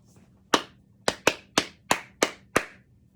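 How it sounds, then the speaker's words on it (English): Seven sharp hand claps in a short rhythmic pattern during a children's music lesson, close and clear against a quiet room, with a quick pair in the middle and no voices. "I will clap something for you"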